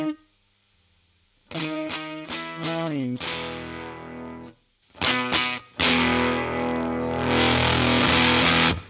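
Electric guitar played through a Fuzz Face fuzz pedal split in half, on the neck pickup, giving a noisy, gritty tone; bursts of strummed chords and notes ring loud after a quiet start, with a brief gap midway.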